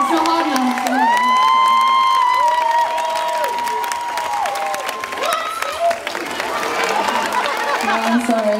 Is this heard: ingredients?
no